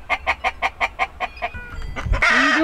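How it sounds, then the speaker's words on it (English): A run of rhythmic, quick clucks from chickens nearby, followed by a louder squawking cry at the end. "These chickens are being loud."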